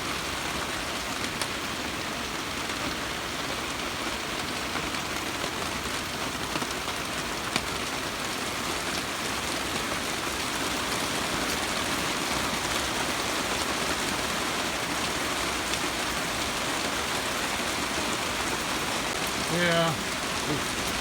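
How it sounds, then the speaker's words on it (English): Heavy rain pours steadily at night over a pasture, a dense continuous wash of drops striking the ground and a nearby gazebo roof, unbroken for the whole stretch with a few harder drops near the end. "It's raining harder now."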